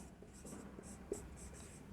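Faint, soft strokes come from writing on a board during a maths lesson on integration. The scratches are short and spaced over a quiet room hum, with one small knock partway through.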